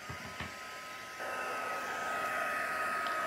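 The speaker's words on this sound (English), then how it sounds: "And then I'm going to heat set it." Heat tool blowing over alcohol inks in an art journal, a faint steady whooshing hum that steps up louder partway through and keeps running, no voices.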